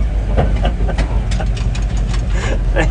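A Ural 375D truck's V8 engine idles with a steady, loud low rumble and a busy mechanical clatter running throughout, close to the listener.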